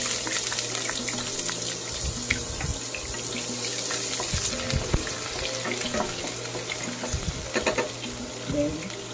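Pompano fish fries in hot oil in a pan alongside white onion, a steady close sizzle mixed with clatter and running water in the kitchen, no voices.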